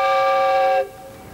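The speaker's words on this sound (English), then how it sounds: "Lovely steam whistles" A loud steam whistle blown at about 50 psi, part of an offshore-rig themed sound installation, sounds a bright, multi-toned chord for under a second before cutting off abruptly into a faint hiss.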